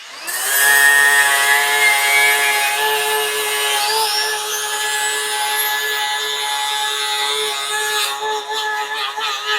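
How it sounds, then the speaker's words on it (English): Angle grinder fitted with a fresh 40 grit Flex SightMAX 5-inch grinding wheel grinding down a screw, giving a loud, steady high whine with continuous grinding hiss that shifts pitch slightly toward the end. "I'm going to try to grind this down with the SightMAX."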